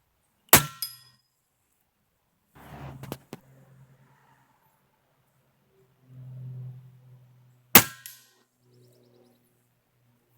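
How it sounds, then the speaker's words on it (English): A test shot from a Barracuda Hunter Extreme air rifle fired during pellet and slug testing: a sharp, loud crack opens, a second identical crack comes later, with quiet handling noises and faint thumps between. "So that was just a test shot with the Barracuda Hunter Extreme, and that was really just to prove a point."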